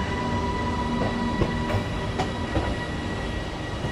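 A train hauled by a WAG12B electric locomotive rolls past steadily, a continuous loud rumble with faint rhythmic wheel clacks and no voices.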